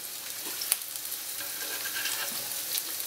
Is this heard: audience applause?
no